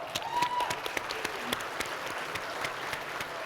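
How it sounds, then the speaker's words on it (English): At an anniversary celebration event, an audience claps in a round of applause, a fairly soft, steady patter of many hands with a few sharper claps standing out. "A round of applause."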